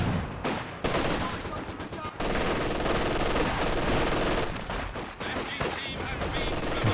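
Machine gun fire from a Company of Heroes 2 match, with double machine guns cutting down conscript infantry: dense rapid bursts of automatic gunfire mixed with scattered shots fill the clip, loud and continuous, with brief gaps between volleys.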